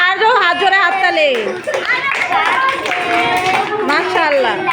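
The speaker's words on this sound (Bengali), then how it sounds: "ওর জন্য হাত জোরে হাততালি" Third-grade schoolchildren in a Bangladeshi classroom clap their hands together, the clapping mixed under continuous talking from a woman and children that dominates the sound.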